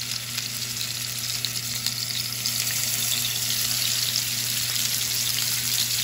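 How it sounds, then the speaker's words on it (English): Loud, continuous sizzling and crackling of salmon fillets searing in a hot pan, steady throughout with no talking. "When you want to sear salmon, that's what you want to hear."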